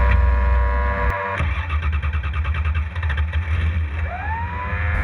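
A 650hp V8 off-road race car pulls away, its engine note rumbling loud and close with a steady low drone and a brief rising whine near the end.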